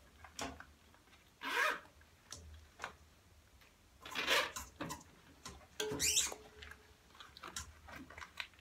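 A reTyre Ice Racer tire cover gets zipped onto a tire in short, scratchy zipper pulls, several separate bursts with pauses and light handling noise between them, close and fairly quiet.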